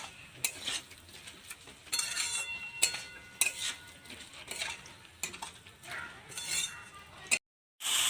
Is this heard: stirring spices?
yes